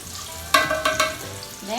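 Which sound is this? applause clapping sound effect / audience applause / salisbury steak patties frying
salisbury steak patties frying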